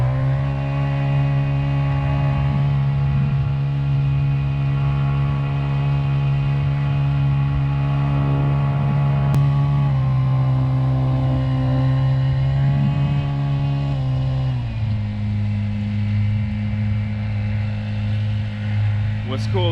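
Crescent K Craft boat powered by a 50cc four-stroke Honda engine running on the water: a steady, close droning hum that shifts pitch a few times as the throttle changes, with someone talking over it.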